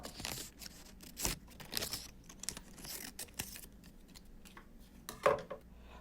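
Scissors snip through folded paper while papel picado is cut, with a quick series of crisp, close cuts and rustles and a sharper snip near the end.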